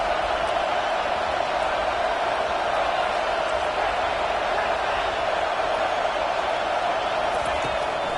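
Stadium crowd noise from the College Football 25 video game, a dense steady roar swelling behind play on a close second down, loud and continuous throughout with no clear breaks.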